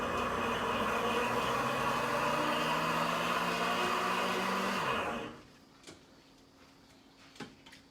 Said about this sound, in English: And now our deluxe cooking blender is at 183.